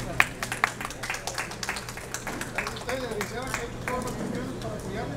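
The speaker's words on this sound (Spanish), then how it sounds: "Vengan los aplausos para doña" An audience at a ceremony where late birth certificates are handed to older adults breaks into applause, first with a few sharp separate claps and then a steady patter mixed with crowd chatter.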